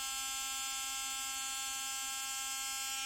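A Hanboost S2 rotary tool runs steadily at high speed, giving off a loud, constant high-pitched whine with a stable tone that holds unchanged for the whole stretch, with no talk over it.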